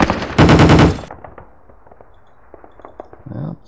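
Loud burst of rapid machine-gun fire from a computer wargame of a WWII Sealion '40 invasion, lasting under a second, followed by quieter scattered shots and pops.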